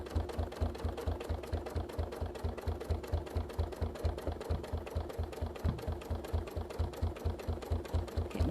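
A domestic sewing machine stitches with a quick, even mechanical thumping that repeats several times per second for the whole stretch, steady and close, with no talking.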